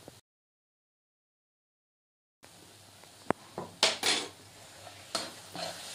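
A spoon stirs and scrapes a laddu mixture of jaggery, black pepper powder and turmeric in a metal pan, with a few sharp clinks and scraping bursts after a stretch of silence.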